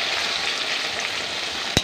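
Tomatoes sauté in a pan for sarciadong tilapia, giving a steady close sizzle that ends with a single sharp clink of a utensil.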